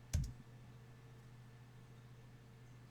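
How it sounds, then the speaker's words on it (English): A single sharp key press on a computer keyboard while setting up a Raspberry Pi node, one close click at the start, followed by faint steady electrical hum. "and I'm going to click enter."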